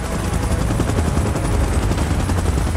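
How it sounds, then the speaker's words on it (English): Helicopter in the video game PUBG event mode, a loud, continuous rotor roar with a dense rhythmic beat filling the whole stretch, close and without speech. "Chopper in position."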